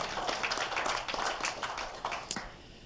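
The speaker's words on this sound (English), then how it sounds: "you can clap for that" A town hall crowd in Claremont, New Hampshire claps in a brisk, continuous patter of many hands, fairly close, tapering off slightly toward the end.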